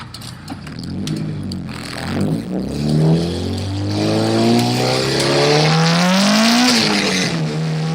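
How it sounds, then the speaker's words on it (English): Honda CRX fitted with a K20a2 engine revs hard and loud, its pitch climbing steadily through the gear with a raspy, rising howl, heard up close and alone. "the car gets loud when you want to have fun with it"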